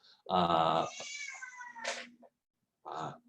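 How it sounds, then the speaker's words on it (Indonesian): A cat meows loudly and close by in one long drawn-out call, then gives a shorter second meow after a brief pause, in a quiet room with no talk. "mohon maaf, ada kucing di sini"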